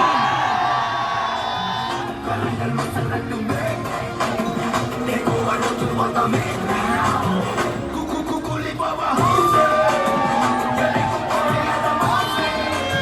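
A large festival crowd roars, whoops and cheers continuously as elephants parade at a Kerala church feast elephant gathering, loud and dense with shouts and yells rising toward the end.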